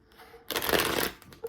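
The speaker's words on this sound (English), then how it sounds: "I'm going to do one more shuffle." A deck of tarot cards being shuffled up close, one brisk riffling burst of about half a second, then a faint tap as the cards settle.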